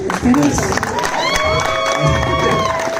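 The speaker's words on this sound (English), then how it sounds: "Legally, you're required to clap at that every time she says it." Audience at an actor's convention panel at Fanboy Expo Orlando 2022 breaks into applause and cheering, a steady, loud crowd wash lasting the whole moment, with shouts and voices mixed in.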